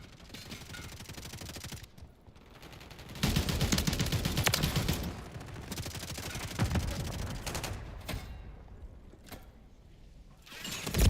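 Sustained automatic gunfire from a Modern Warfare 3 match, dense bursts of rapid shots that swell louder midway and then ease off, with brief pauses between volleys.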